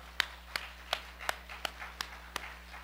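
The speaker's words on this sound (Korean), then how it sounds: "하나님께 박수로 영광" Eight sharp, evenly spaced claps in a church worship service, as a congregation claps in praise to God; crisp and moderately close with a steady rhythm and no talk over them.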